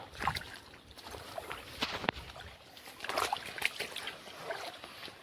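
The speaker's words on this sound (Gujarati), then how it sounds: "એક મોટરનું પાણી આવે જો" Water from a farm motor pump splashes and trickles steadily with bursts of rushing flow, heard nearby in an outdoor setting with no voices.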